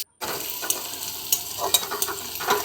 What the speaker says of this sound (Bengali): সেই তেলেই পেঁয়াজ কুচি করে দিয়ে ভেজে